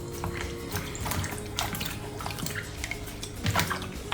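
Felt eggs are rinsed and squeezed in a basin of cold water, with close sloshing, dripping and splashing in irregular bursts and no talking.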